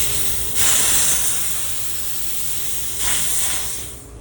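Refrigerant hisses steadily from a compressor system valve being cracked open, with two louder bursts of rushing gas rising out of a continuous close hiss.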